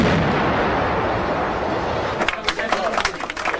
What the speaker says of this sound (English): 30 seconds, 45 seconds later, a second explosion.